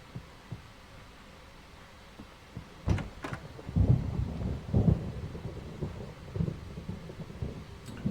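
Thunderstorm in the game Alan Wake Remastered: deep rolling thunder rumbles build and pulse in several heavy waves over a low wash of rain, with a couple of sharp cracks.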